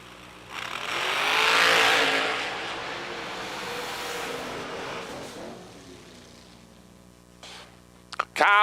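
A drag-racing car engine at a TB Promotions event swells into a loud, roaring rev, then holds a lower rumbling idle. Sharp throttle blips burst out at the end.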